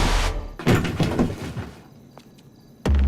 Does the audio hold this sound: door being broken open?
yes